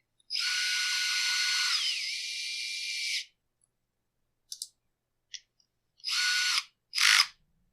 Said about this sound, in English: And I kind of use the gun to take up the slack